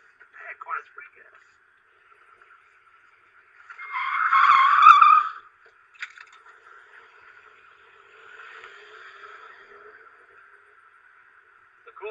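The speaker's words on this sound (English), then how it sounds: "Let's see how it goes around corners." A 2008 Smart Fortwo car cornering, with a loud tire skid squealing for about two seconds mid-clip, plus fainter screeches and voices before and after.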